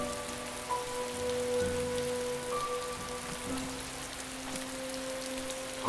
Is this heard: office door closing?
no